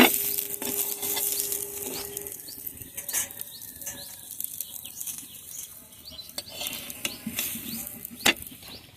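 A winter vegetable snack frying in hot oil, with a steady sizzle and scattered clinks and scrapes as pieces are flipped; no talk, moderately loud throughout.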